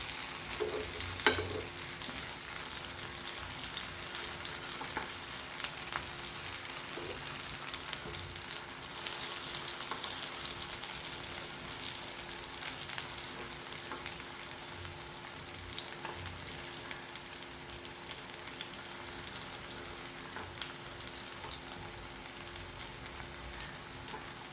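Seer fish pieces fry in a pan with a continuous dense sizzle and crackle, steady and moderately loud throughout with scattered small pops and no voices.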